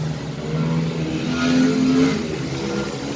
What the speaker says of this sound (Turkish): Motor sesi.